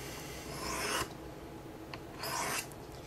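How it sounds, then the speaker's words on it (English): Knife blade rasped along the unglazed rim of a ceramic coffee mug, two steady gritty strokes, each about a second long, separated by a quiet gap with a faint tick, close and fairly soft. "you can sharpen a knife on a coffee mug. The unglazed portion."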